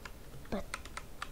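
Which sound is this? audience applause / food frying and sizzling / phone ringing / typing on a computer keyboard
typing on a computer keyboard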